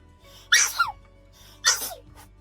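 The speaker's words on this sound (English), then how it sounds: "I'm gonna sneeze now." Two loud sneezes in quick succession, each a sharp explosive burst with a short breathy tail, close to the microphone.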